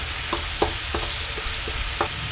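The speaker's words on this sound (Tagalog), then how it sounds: "Maglagay kayo tomato paste, siguro mga 1 to 2 tablespoon." Tomato paste with chicken cubes frying in a pan for chicken afritada, stirred with a utensil. A steady sizzle carries about six sharp scraping strokes at an uneven pace, close and clear, with no talking.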